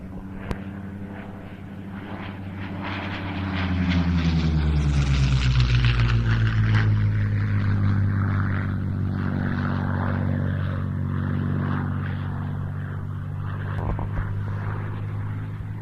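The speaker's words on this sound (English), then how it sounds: "This version of the Warhawk tried to improve the aircraft's performance by installing the Rolls-Royce Merlin engine in prototype form" A Curtiss P-40 Warhawk fitted with a Rolls-Royce Merlin engine flies past at an air show, its propeller engine drone swelling loudly as it nears, the pitch sliding downward as it passes, then a sustained roar fading slowly.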